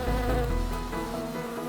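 Honeybees buzz around a hive near flowering canola, a dense, close, droning hum with layered wingbeat tones that shift slightly in pitch; no one speaks.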